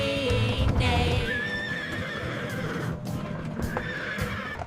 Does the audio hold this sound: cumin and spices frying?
no